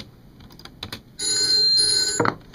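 A telephone bell rings as a sound effect in a produced radio spot, a steady electronic trill starting partway through after a few faint clicks, loud and close, ending in a short thump like a handset pickup.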